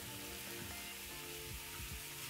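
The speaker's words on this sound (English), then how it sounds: "Cook the mushroom until wilted" Mushrooms with onion sizzling steadily in a hot pan, a continuous soft hiss and crackle of frying at low volume, heard alone without talk.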